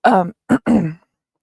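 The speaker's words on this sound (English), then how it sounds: "I have something in my throat" A person clears their throat up close, a rough voiced rasp followed by two shorter hacking bursts, then silence.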